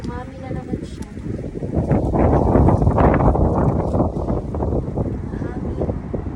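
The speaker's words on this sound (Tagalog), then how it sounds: "Hangin." Wind blows through a backyard vegetable garden, a loud, continuous low rumble of gusts buffeting close by, rising in the middle and easing off, with a voice briefly audible under it.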